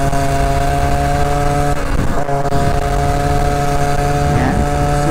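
A two-stroke MotoPed motorized bicycle engine drones steadily while riding, a loud buzzing tone with strong harmonics held close throughout, with a brief dip and slight pitch shift partway through.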